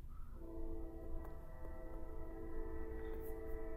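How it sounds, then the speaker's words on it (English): A train passes outside, its sustained horn-like tones droning steadily at a distance, faint and muffled as if heard from indoors, with no talking. "Sorry about the train if you hear it."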